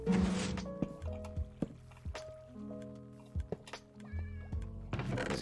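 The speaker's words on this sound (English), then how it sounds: "kitty cat." Short game-style cat meows from a kitty in Minecraft, heard as a few brief tonal cries among thunks, clicks and drips, moderately close with no talk.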